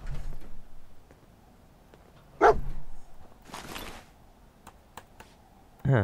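Dogmeat, the dog in Fallout 4, gives a couple of sharp, close barks spaced a few seconds apart, between quieter clicks and shuffling game sounds.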